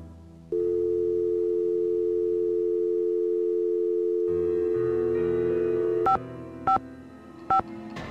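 A telephone in a ticket booth in a Nancy Drew video game hums a steady, even dial tone for several seconds, followed by three short, clean dialing beeps spaced apart.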